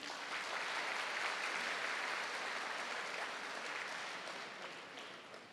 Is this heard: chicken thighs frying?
no